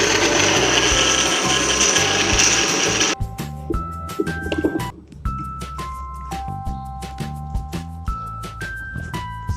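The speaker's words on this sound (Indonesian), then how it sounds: "Sekarang kita blender sampai halus." Blender pureeing cooked sauce ingredients for a coconut-wrapped beef dish in a kitchen: a loud, steady motor whir and grinding runs for about three seconds, then stops and gives way to music.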